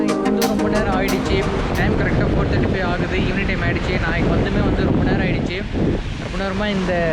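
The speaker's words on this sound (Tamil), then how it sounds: "இந்த பீச்சோட காற்றும் இந்த பீச்சோட சவுண்டுமே வந்து கேட்டுக்கிட்டு இங்கே உட்காந்துட்டேன்" Wind and ocean surf on Chennai's ECR beach, a loud, constant rushing roar with heavy wind buffeting on the microphone while someone talks over it throughout.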